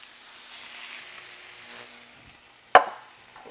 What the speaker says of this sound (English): I can tell by the way that chicken's sizzling that it's just about done.